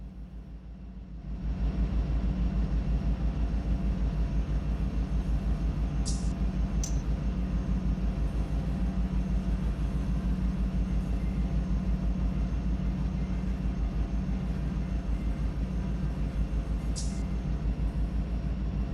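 Inside a locomotive cab on the Mojave Subdivision between Bakersfield and Long Beach, a steady loud engine and rail rumble runs throughout as the train brake is applied, with a couple of brief high hissing bursts from the brake air.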